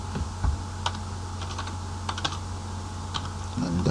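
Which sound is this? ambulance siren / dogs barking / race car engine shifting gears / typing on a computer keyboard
typing on a computer keyboard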